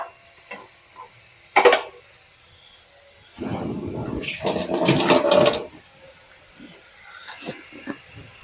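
Water is poured into a cooking pot of potatoes for about two seconds, a close, splashing gush that follows a few sharp knocks of utensils against the pot.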